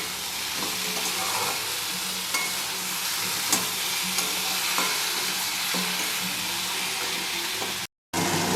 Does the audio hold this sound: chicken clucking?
no